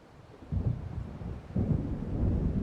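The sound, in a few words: thunder of an approaching storm in the video game Alan Wake Remastered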